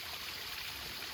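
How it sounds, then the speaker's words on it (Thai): A small waterfall at Ban Na Ang runs steadily after days without rain, giving a constant broadband rush and trickle of falling water, moderately close and unbroken, with no voices over it. "ฝนบ่ตกหลายมื้อได้น้ำตกก็ยังไหลอยู่บ่ยา"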